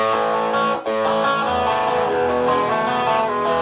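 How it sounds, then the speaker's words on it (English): A heavily distorted electric guitar through a Digitech Tone Driver distortion pedal rings out in sustained, buzzy chords with a bright, fizzy top end, loud and continuous throughout. "It's got that nasty kind of high-end sizzle that I don't like on a distortion box."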